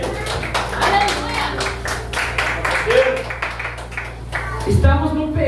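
A church congregation at a worship service claps along in a steady, dense patter throughout, with voices and music mixed underneath.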